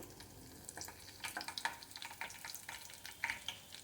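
Dried red chillies fry in a small amount of hot oil with mustard and other tempering seeds, making quiet, close crackles and sharp pops in uneven bursts.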